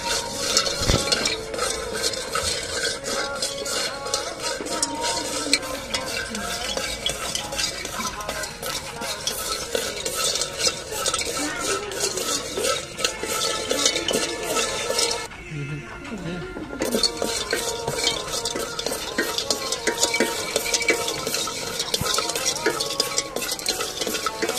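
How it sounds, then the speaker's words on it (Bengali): Dried puti fish frying in a pan, a dense steady sizzle with stirring scrapes running throughout, briefly cut to near silence partway, then resuming at the same close, even level. "শুটকি মাছগুলো ভেজে নেবে আম্মু।"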